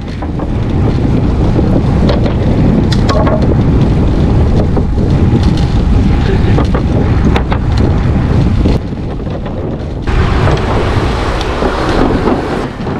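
Wheels rolling across a wooden plank bridge beside mangroves in Anping, Taiwan, a continuous rough rumble with rattling knocks under steady wind noise and no talking.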